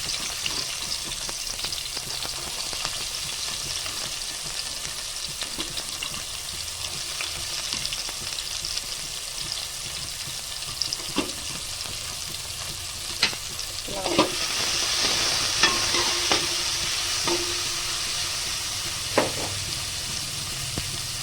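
Fennel seeds and shallots fry in hot oil in a pan, giving a steady close sizzle throughout with occasional stirring scrapes and taps, no talking.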